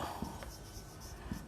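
Chalk or marker strokes on a board during an accounting lesson, a few soft scratchy taps and scrapes, faint and close, with no talk.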